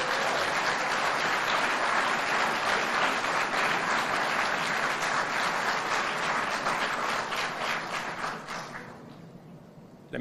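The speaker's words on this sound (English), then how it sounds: "Maybe I could get some more applause." A business audience at an American Chamber of Commerce regional event gives sustained, loud applause that fades toward the end.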